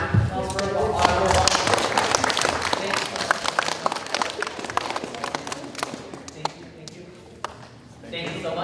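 A lively burst of audience clapping at a science museum presentation builds quickly and then tapers into isolated claps, with a presenter speaking over the start and the end.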